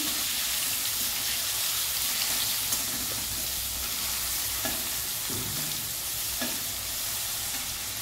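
Turmeric and chilli powder sautéing in a hot pan, a steady close sizzle with scraping stirs throughout and a few brief clinks, no talking.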